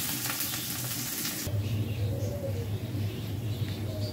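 Onions fry in hot oil with cardamom, cinnamon and bay leaf, giving a loud, bright sizzle at first, then a softer crackle while a bird coos faintly nearby.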